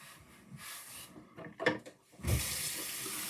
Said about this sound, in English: I'm gonna rinse my brush out real quick